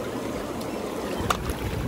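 Bubble jets of an Intex Simple Spa portable hot tub make a steady churning rush of bubbling water, continuous and fairly close, with faint splashes and no voices.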